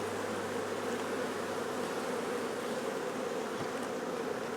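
Honeybees drone around an open hive on a dull-weather day, a continuous close buzzing swarm that holds steady and alone without talk.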